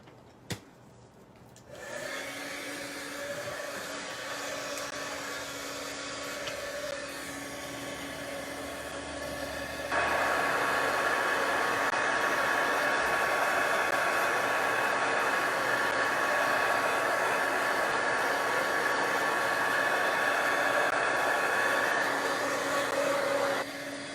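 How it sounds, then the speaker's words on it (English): A heat gun blows steadily to dry alcohol inks on glitter paper, a continuous close whooshing roar that starts after a brief pause and grows louder partway through, with no talk over it. "Got my heat gun here."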